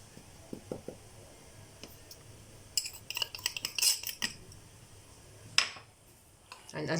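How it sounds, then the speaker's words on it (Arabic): Spoon stirring dry ingredients for churros in a bowl, an irregular run of light scraping and clinking, soft and close, with a brief faint voice near the start. "هنقلب بقى كل مكونات الجافة دي مع بعض"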